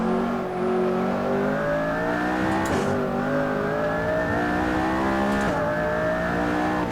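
McLaren P1 racing at Zwartkops circuit in Assetto Corsa, its engine a steady, loud high-revving whine that rises with each gear and dips briefly at shifts, held near and continuous.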